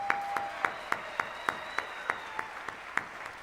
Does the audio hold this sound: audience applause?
yes